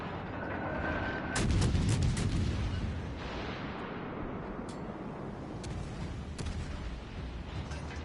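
Naval artillery fire in World of Warships: a dense, rumbling barrage of heavy gun blasts and shell impacts, loudest in a thick burst near the start, then continuing as a steady churning roar of distant shots and splashes.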